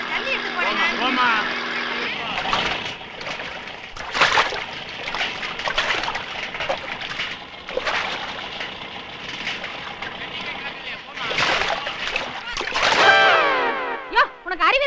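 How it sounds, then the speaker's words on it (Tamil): Water splashes over a man in a Tamil comedy film scene, a few sharp bursts rising from a busy mix of overlapping voices and background music. "ஏன் என் மேல தண்ணி ஊத்துன?"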